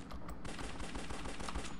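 Dual pistols firing in Larva Mortus while clearing rooms: a quick, dense stream of close, sharp gunshots, fired rapidly and continuously for just under two seconds with no talk.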